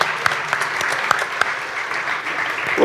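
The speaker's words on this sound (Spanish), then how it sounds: "¡Vamos a aplaudirlo!" Audience applause at a commerce forum, a steady wash of clapping at moderate level with a few sharper individual claps standing out.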